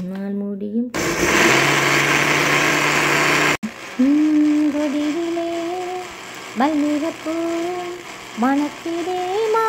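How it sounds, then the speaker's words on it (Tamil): A grinder churns kodo millet rice and urad dal into idli batter, giving a loud, steady whirring roar for a few seconds before a singing voice takes over. "இனி இந்த வரகரிசியை பட்டு போல் அரைப்போம்."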